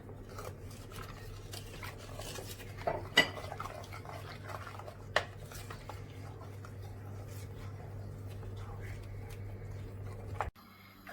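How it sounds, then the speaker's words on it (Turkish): Pudding being stirred in a pot over high heat, quiet continuous scraping of a spoon against metal with a few sharper clinks over a low steady hum. "Sürekli şöyle karıştıracağız kaynayasıya kadar."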